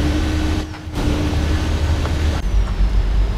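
A Ford Cargo 3238 truck engine climbs a ramp through short gears, a loud, close, continuous diesel drone broken by abrupt shifts as the revs cut and rebuild.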